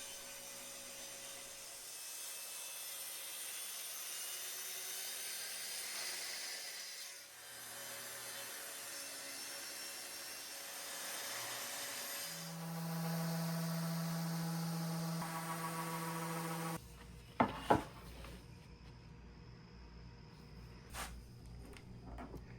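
A power saw cuts a wooden standing desk top to final size, a sustained whining cut that changes tone partway, then stops, followed by a few clunks.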